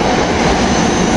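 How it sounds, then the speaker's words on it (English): A Chestnut Hill West commuter train, a SEPTA regional rail set, rolls into the Temple University station at rush hour with a loud, steady rumble and roar that fills the whole short stretch. "I think this is the Chestnut Hill West train, 851"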